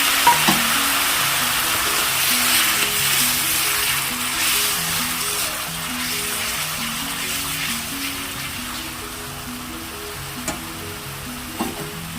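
Spice masala sautés in oil in a pan for a Bengali egg curry with cauliflower and potato: a loud, continuous close sizzle with occasional light clinks of stirring and no talk.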